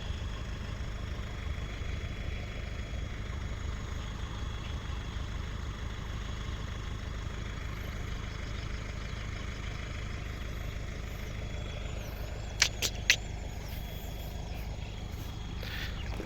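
A low, steady tractor engine, an L50 stuck in mud, drones continuously at idle-like pace, with a few brief sharp clicks near the end.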